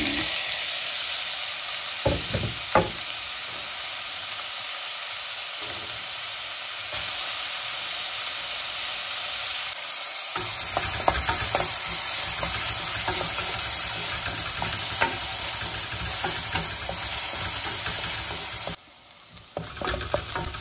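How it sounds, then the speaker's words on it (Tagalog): Garlic and chopped onion sizzle and hiss in hot oil, close and steady, with occasional stirring clatter and a brief quieter moment near the end. "Actually, ang aking garlic, ito na siya. With oil. And the chopped onion."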